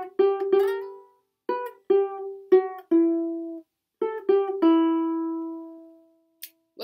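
Ukulele picking the verse of a song, clear plucked notes in small clusters with gaps and decaying ringing tones, quiet and solo with no talking.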